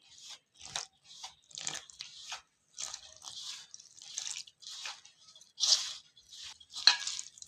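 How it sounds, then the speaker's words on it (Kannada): Maida flour dough with a little salt and water being kneaded by hand, giving close, repeated squishy, wet squelching bursts in an uneven rhythm, with no talking. "ಸ್ವಲ್ಪ ನೀರು ಹಾಕೊಂಡು ನಾದ್ಕೋತೀನಿ."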